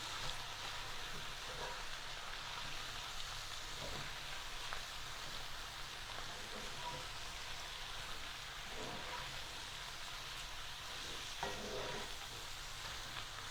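Spinach cooks down in a pan with a soft, continuous sizzle and occasional faint stirring scrapes, staying low and even throughout.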